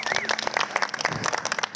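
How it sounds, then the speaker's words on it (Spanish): Short applause for a cumbia band at an interview: brief, close clapping from a small group, uneven and bursty, lasting under two seconds. "un aplauso muchachos para ustedes"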